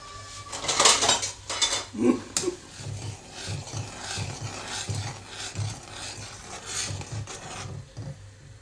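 A utensil scrapes and clinks against a metal pan in steady stirring strokes, mixing mint leaf thokku with roasted ground fenugreek, close up, with no voices.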